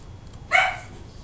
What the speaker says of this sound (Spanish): Oh, perdón por los perros